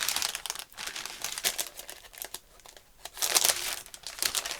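Paper backing on Wonder Web fusible interfacing, similar to baking paper, being handled and crinkled up close in a rapid string of loud rustling bursts with brief pauses between them.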